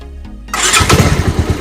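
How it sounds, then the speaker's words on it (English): A motorcycle engine cranks briefly and then catches as the throttle is opened, bursting into a loud, close, rough rumble that keeps running steadily, with no voices. "So if you give a little bit of throttle, it will switch on properly"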